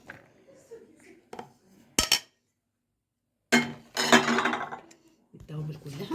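A spoon clinks and scrapes against a bowl while spiced hawawshi meat filling is mixed, coming in short separated bursts with quiet gaps, and voices talk between and over the stirring.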